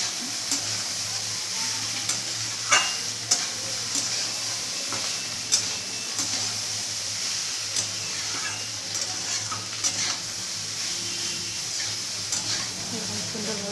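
Cooked rice being stirred and mixed in a hot pan for fried rice, giving a steady sizzle with repeated scraping and tapping of the spatula throughout.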